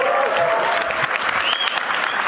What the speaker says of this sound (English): That was not a large applause.